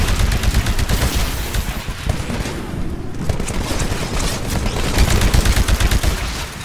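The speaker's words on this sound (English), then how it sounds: "Destroy the Titan with your anti-Titan weapon." Heavy anti-Titan weapon fire in the Titanfall beta training, with dense rapid bursts and booms that continue steadily and loud throughout and leave a brief thinning near the middle.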